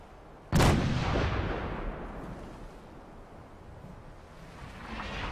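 A weapon fires in Fallout 4, one sudden heavy boom followed by a long rumbling tail that slowly fades, with no voices heard.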